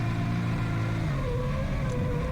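A drift car engine is held on steady throttle, revving smoothly with a sustained, slightly rising mid-pitched drone and no pauses.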